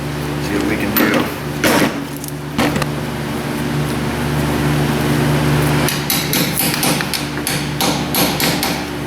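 Someone hammers hard on a front axle part of a Dodge Dakota in a shop. Close metallic blows land in irregular bursts, a few early and a rapid flurry near the end, over a steady mechanical hum, and a voice speaks in between.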